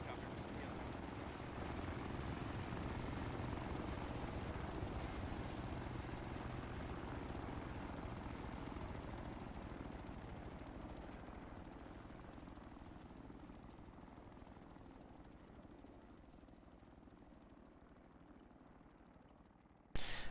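A video-game helicopter in flight gives a steady, dense rotor and engine roar that slowly fades over about twenty seconds, with no talk audible over it.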